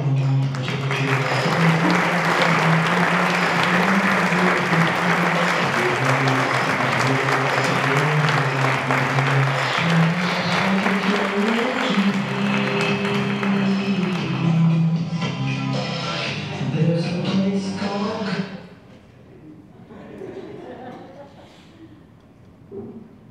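Sustained applause from a dinner audience welcoming Dr. Richard Featheringham to the stage for the 2018 CPA Hall of Fame Award, dense clapping under music for about eighteen seconds before tapering off into quieter room sounds.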